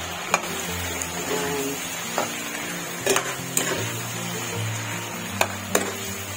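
Pork humba frying and being stirred in a pan after brown sugar is added, a continuous sizzle with scattered sharp clinks of a utensil against the pan, close and moderately loud, without speech.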